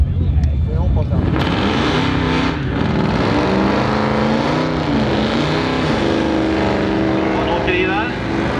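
A car doing a burnout and drifting roars loudly, its engine revving up and down with tire noise throughout, while voices sound over it.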